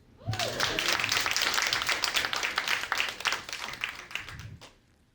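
An audience at a live podcast taping in Atlanta claps and applauds, a dense burst of hand claps rising sharply and holding for several seconds before tapering off, with a brief voice at the start.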